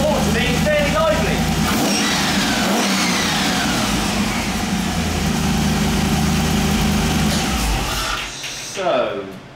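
A rebuilt 4.6-litre twin-plenum hotwire Rover V8 idles with a deep, steady rumble, loud and close, then briefly fades and blips near the end.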